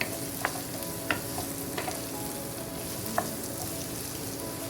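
Eggs are stirred in a hot pan with plantain and squash, giving a gentle continuous sizzle broken by a handful of light utensil scrapes and taps.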